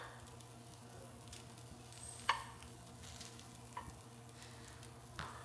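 Pork sears in a hot pan with a soft, steady sizzle, punctuated by a few sharp clicks and clinks of a utensil against the pan.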